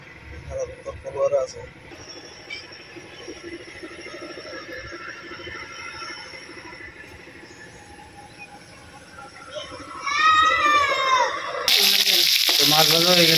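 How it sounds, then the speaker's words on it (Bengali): Fish frying in hot oil gives a steady, moderate sizzle under ongoing conversation. It grows louder and crackles more sharply near the end. "মাছ ভাজা হয়ে গেছে"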